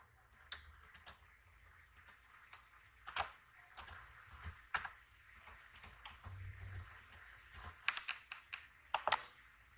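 Keys clatter on a computer keyboard while an email address is entered, a faint, uneven run of clicks in quick bursts with short pauses between, no voices over it.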